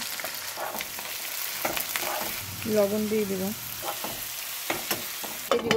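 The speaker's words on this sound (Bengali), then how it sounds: "পেঁয়াজটা ভাজা হতে থাক" Onions frying in oil in a wok with dried red chilli and whole garam masala, a steady sizzle with stirring clatter while someone speaks briefly over it.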